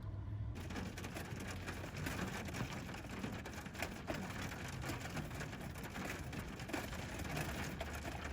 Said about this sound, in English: while I'm sitting here watching the hail fall